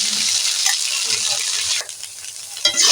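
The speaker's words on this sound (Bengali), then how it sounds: "এইভাবে নাড়াচাড়া করে করে ভাজতে থাকবো যতক্ষণ না জলটা মরে যাচ্ছে ততক্ষণ এইভাবে আমি নাড়বো" Boiled bottle gourd leaves sizzle loudly in a pan while being stirred to cook off their water, a constant hiss with scraping turns, briefly dipping before surging again near the end.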